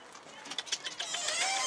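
A chicken clucks in short, quick bursts at a coop, several sharp calls in a row, fairly close, followed by a rising scratchy noise.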